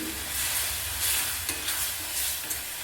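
Spoon stirring coconut and green chilies as they fry in hot oil for a sprouted moong and dill curry, with soft scraping strokes over a steady sizzle.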